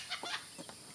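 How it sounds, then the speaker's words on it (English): A loud bird with chicken-like clucking, heard in a lemur enclosure: several short clucks come in a broken sequence, fairly close and prominent, with no talking. "there's a really loud bird back there"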